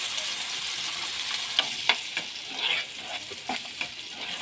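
Ground masala paste sizzles and spits in melted butter in a pan while paneer lababdar is being cooked, giving a steady close frying hiss broken by a few sharp crackles and stirring scrapes, with no talking.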